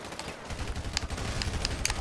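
Gunfire in the game GTA 5 during a concrete deathmatch, several sharp cracks spaced out over a steady noisy bed of game sound, fairly loud and close.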